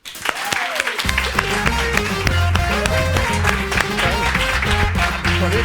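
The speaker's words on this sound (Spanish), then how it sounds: "Un aplauso para Claudio Serrano" A television studio audience applauds steadily and loudly for several seconds on a Spanish talk show, a dense continuous clapping with some background music or voices underneath.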